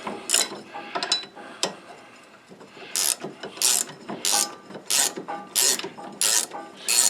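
A ratchet wrench works a nut loose on the steering of a John Deere riding mower, with bursts of rapid clicking in a regular back-and-forth rhythm, close and fairly loud.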